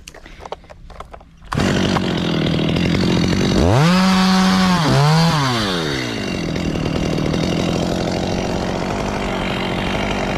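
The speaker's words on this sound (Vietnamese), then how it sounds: "Giờ mình sẽ tiếp tục cưa cái này nè." A chainsaw starts up close and roars loudly, revving high as it bites into a tree branch of a xà cừ (African mahogany) tree over a house roof, then settles into a steady, buzzing cut.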